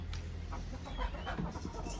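A chicken clucks faintly in the background of an outdoor home kitchen where fish is being cooked, a few brief calls over a steady low hum and soft clatter.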